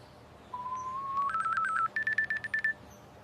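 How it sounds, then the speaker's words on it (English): A mobile phone rings with a short electronic tone that steps upward in pitch, then pulses in a quick series of beeps, heard alone and fairly clearly. "All of a sudden, my phone rings."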